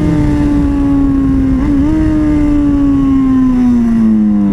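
Yamaha FZ6 S2 four-cylinder 600 motorcycle with a Leovince exhaust and Power Commander 5, engine droning loud and close in a steady high-revving tone that dips briefly and then holds, without talk.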